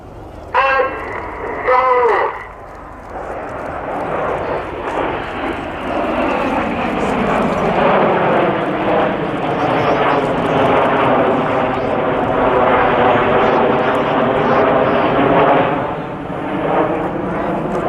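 Red Arrows jets fly the shuttle roll at an airshow, a loud, sustained roar of jet engines that swells and holds for many seconds after a short burst of announcer talk over a public address.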